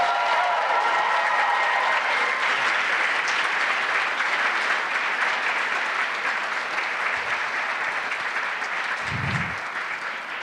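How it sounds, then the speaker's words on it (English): At a band celebration concert, the audience gives a soloist another round of applause, an even, sustained wash of clapping heard from a moderate distance. "Let's embarrass him with another round of applause."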